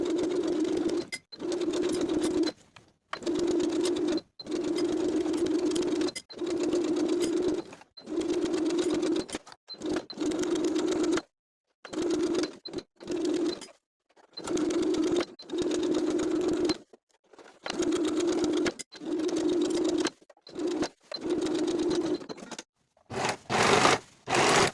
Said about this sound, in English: Now we're ready to sew the skirt to the bodice all the way around with a 1/2 inch seam allowance